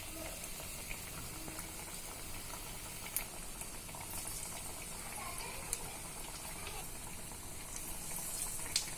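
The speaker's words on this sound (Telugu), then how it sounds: "బాగా వేడైన నూనెలో వేసుకోవాలి. దీనిని మీడియం ఫ్లేమ్లో ఎర్రగా క్రిస్పీగా అయ్యే వరకు ఫ్రై చేసుకోవాలి." Chana dal masala vadas fry in hot oil over a medium flame with a steady, soft bubbling sizzle. Small pops and crackles come through now and then.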